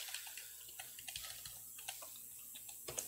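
Computer keyboard keys are tapped hard and fast, producing quick irregular clicks and clacks at a faint, close level against quiet background hiss.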